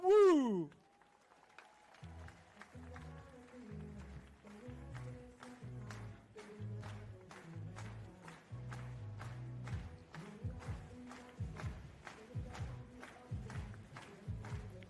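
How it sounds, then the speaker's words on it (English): At a high jump meeting in Heilbronn, a stadium crowd claps in a steady rhythm behind a jumper, the even beats running on over a tonal musical backing after a brief rising sweep. "He's getting the crowd behind him."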